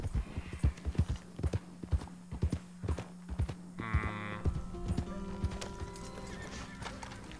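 Horse hooves clip-clop in an uneven trotting rhythm in the video game Red Dead Redemption 2, close and clear, with a whinny midway and game music and effects underneath.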